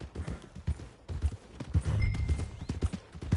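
Horse hooves clip-clop steadily in Red Dead Redemption 2, close and rhythmic, with a faint whinny-like tone partway through.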